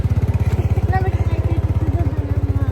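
Motorcycle engine putters close by with a fast, even pulsing beat, steady throughout, while people talk faintly in the background.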